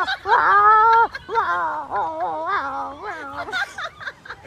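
A voice imitates fighting cats with drawn-out, wavering yowls and snarls, rising and falling in several loud bursts.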